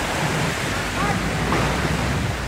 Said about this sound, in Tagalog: Bangod sa makusog nga hangin.